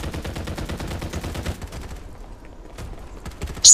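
Rapid bursts of gunfire in the video game Farlight 84, a dense volley of shots for about a second and a half, then a quieter gap with scattered mechanical clicks and a sharp burst at the end.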